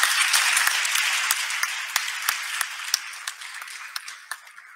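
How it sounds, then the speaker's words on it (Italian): Audience applause at a national remembrance day for workplace victims in Italy, a full crowd clapping that slowly thins out toward scattered individual claps as it fades. "fare un piccolo applauso"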